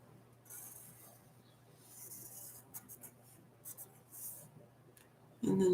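A pen or marker draws a line across a graph on paper during a math lesson, giving a soft, steady scratchy writing sound with short separate strokes, close and quiet, ending with a louder bump.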